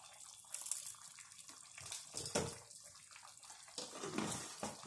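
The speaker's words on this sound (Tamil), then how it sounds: "ஒரு 5 மினிட்ஸ் நல்லா கொதிக்கட்டும் ஹை ஃப்ளேமில்." Vegetable kurma gravy boiling hard on a high flame, a steady bubbling, gurgling simmer heard close and faint with no voices.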